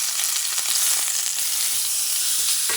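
Beef steak for tagliata sears in a hot pan with a steady, close hiss and crackle of fat, continuous frying with a few faint stirring scrapes and no talking.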